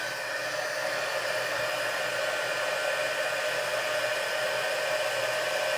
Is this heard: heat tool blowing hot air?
yes